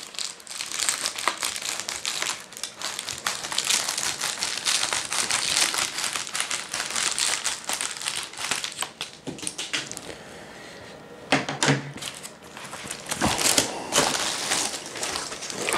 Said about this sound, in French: Tout d'abord, on va procéder au déballage